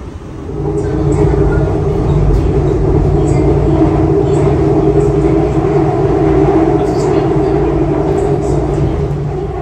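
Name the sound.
Seoul subway train ride to Jamsil station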